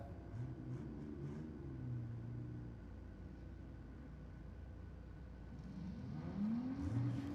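A GMH car driven slowly onto the Sydney Dragway burnout pad, its engine a low rumbling idle that rises in pitch as it revs toward the end, heard at a distance.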